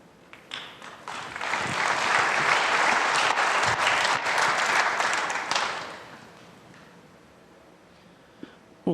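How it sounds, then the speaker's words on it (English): A snooker audience at the 2026 Players Championship claps steadily. The applause swells quickly, holds for several seconds, then fades away into a quiet hall. "Well, they're applauding"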